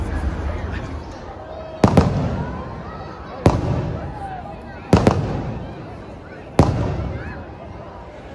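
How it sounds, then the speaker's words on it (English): Fireworks bursting at Disneyland, four loud booms spaced roughly evenly, each trailing off into a rumbling echo over a quiet background murmur of a crowd. "Those fireworks are freaking awesome."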